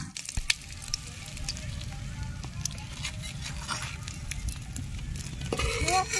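Fried fish heads sizzle faintly in hot oil, a soft steady crackle with a few light clinks near the end.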